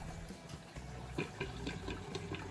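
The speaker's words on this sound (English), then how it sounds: "Next, fill the sink with hot water and open the drain." Hot water runs from a tap into a household sink, followed by the drain being opened; a steady, moderate rush of filling water with irregular gurgles and splashes, close by and with no talking.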